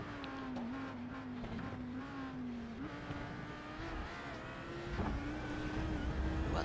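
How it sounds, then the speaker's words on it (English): Loud GT3 race car engines in a sim racing game at Road America, a steady high engine whine that shifts pitch with gear changes, close and continuous with no talk. "They are by far the loudest GT3s around"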